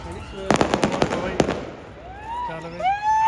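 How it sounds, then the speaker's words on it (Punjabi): A firecracker bomb goes off during Basant Panchami kite-flying celebrations, a rapid string of sharp, loud cracks over about a second, followed by people's voices and whistles close by. "bomb ਚੱਲਵੇ bomb"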